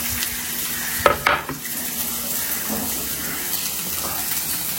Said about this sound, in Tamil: வெங்காயம் கடுகு எல்லாத்தையும் போட்டு, பச்சை மிளகா காஞ்ச மிளகா எல்லாத்தையும் போட்டு தாளிச்சிக்கிறேன்